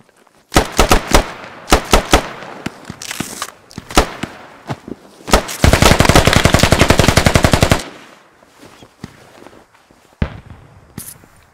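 Dense gunfire from the Squad infantry video game: scattered single shots and short bursts, then a sustained rapid automatic burst lasting about two seconds, followed by a few more shots, loud and close with no talking.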